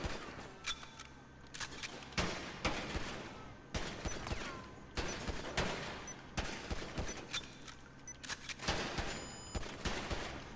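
Rapid bursts of gunfire at shooting targets in GTA V, sharp repeated shots in quick volleys with brief pauses between them, loud and close, with no speech.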